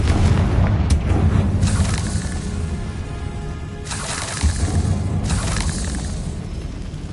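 A Confringo fire spell from the Hogwarts Legacy video game sets off loud, deep booming blasts, several bursts a second or two apart over a heavy rumbling background.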